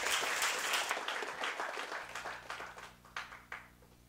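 Audience applause at a university research-presentation final, a dense wash of clapping from a crowd that starts strong and slowly thins and fades, with a low hum emerging underneath near the end.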